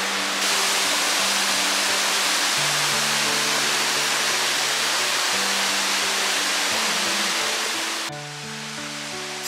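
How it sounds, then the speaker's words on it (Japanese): A waterfall in Oirase Gorge, Aomori, a dense, steady rushing roar of falling water that stays constant throughout, with a faint tonal hum beneath it. "千筋の滝ちょろって出てる"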